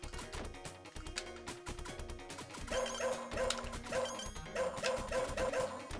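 A dog barks repeatedly in a retro video game played on an Analogue Pocket handheld, with short yapping game sounds in a quick rhythm over chiptune music.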